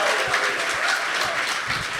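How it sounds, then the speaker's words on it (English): Audience at a hacker conference claps to vote for an oscilloscope badge project, a brief, dense burst of many hands clapping fairly close and loud, with no talk over it. "Remember, we're voting by number, by applause."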